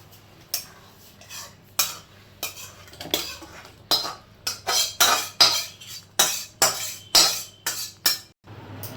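A spatula scrapes lau posto, bottle gourd in poppy-seed paste, out of a kadai wok into a serving dish: about a dozen close, rhythmic metallic scrapes and clinks, growing louder toward the end, with no talking.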